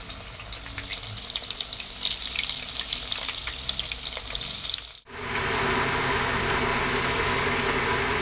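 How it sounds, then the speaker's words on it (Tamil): Chicken rolls frying in hot oil, a dense bubbling sizzle that cuts off abruptly partway through and then resumes as a steadier, smoother hiss of oil, close up, without speech. "இப்போ நம்ம ஃப்ரை பண்ண போகிறோம்."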